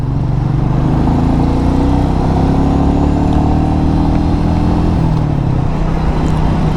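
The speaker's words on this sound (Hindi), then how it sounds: "और बाइक को करते हैं रेव अप।" Royal Enfield Meteor 350 BS6 motorcycle engine revving while riding, a steady close mid-pitched drone with rising and falling pitch sweeps as the throttle is worked, continuous and loud throughout.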